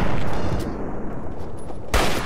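Gunfire in Fallout 3, a loud burst of close shots with a heavy blast near the end of a short stretch.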